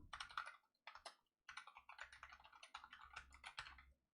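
Computer keyboard typing in quick bursts of clicky keystrokes with brief pauses, close and fairly quiet, during an online guided mindfulness meditation class.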